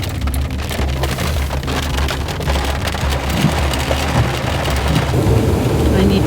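Steady rain drums on the roof and windows of a small parked car at night, a dense, continuous patter close around the listener with no talking.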